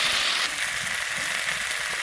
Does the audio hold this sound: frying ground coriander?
yes